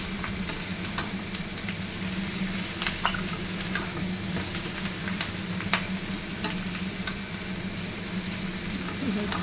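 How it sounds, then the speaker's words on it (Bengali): Chilli chicken is stirred and fried in a large pan over a high flame, with a steady loud sizzle and repeated clanks and scrapes of the spatula throughout. "এবার ভালো করে মিশিয়ে নিচ্ছি।"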